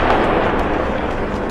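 Artillery shelling at dawn over Gaza comes through as a dense, continuous roar of booming blasts, loud and sustained with no clear gaps between impacts.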